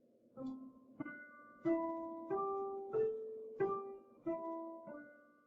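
Eight tonal notes played one after another at a steady, moderate pace, a clean pitched instrument stepping through a pentatonic scale with no talking.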